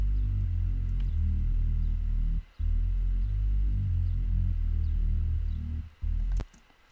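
Deep synth bass line following the root notes of the chords in an orchestral trap beat, steady sustained low notes with two brief gaps, alone without voices.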